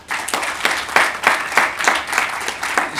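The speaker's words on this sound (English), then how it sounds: "give a huge round of applause to Ambassador Peter Fatou" Applause for Ambassador Peter Fatou at the launch of the Africell Impact Foundation, a dense, steady round of clapping from a crowd with rhythmic swells, close and fairly loud.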